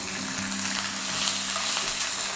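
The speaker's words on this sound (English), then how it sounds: "I'm going to brown both sides just to sear it." Thick slices of pork belly, cut about a centimetre thick, sear and sizzle in a hot pan, a steady close frying hiss with a faint low hum underneath.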